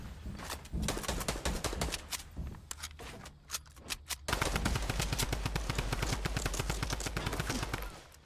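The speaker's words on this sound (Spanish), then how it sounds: "Ahí está disparando el otro a él." Gunfire in Fortnite, a video game: scattered sharp shots give way to a long, rapid, rhythmic burst of automatic fire, loud and close.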